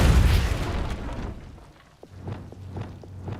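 A Depulso spell in the video game Hogwarts Legacy lands with a loud, deep booming blast that decays over about a second, followed by quieter rhythmic low thuds.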